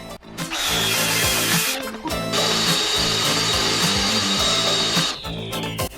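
A power saw cuts the end off a butcher block, giving a loud, steady whining buzz broken by short pauses near the start, around two seconds and near the end.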